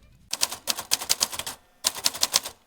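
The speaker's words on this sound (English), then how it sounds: "We type poems on vintage typewriters on whatever strikes your fancy." Poems being typed on a vintage typewriter: two quick bursts of sharp, rapid key strikes clack close by, separated by a short pause, with no voices.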